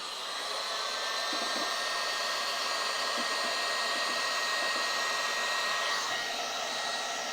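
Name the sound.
hairdryer blowing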